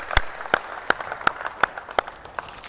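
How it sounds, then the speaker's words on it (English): A small group at a basketball team offence clinic gives a brief, sparse clap for the demonstrating players, with about six distinct, evenly spaced claps close by and no voices. "Can we give them a quick clap?"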